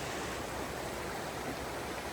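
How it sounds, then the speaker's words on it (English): A low stream flowing at a water crossing on the Appalachian Trail in Connecticut, heard as a steady, even rush of water that fills the moment with no other sounds. "Successfully navigated that little water crossing. It's a pretty low stream"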